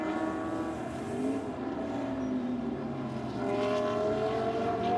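Onboard a GT Masters race car at the Nürburgring, a loud sustained engine whine rising and falling through gear changes, close and continuous with no talk.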